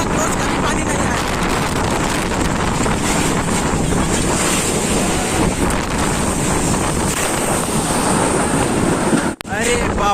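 Floodwater surging in during Cyclone Yaas, a loud, continuous roar of rushing water and wind buffeting the microphone, steady throughout with a brief dropout near the end.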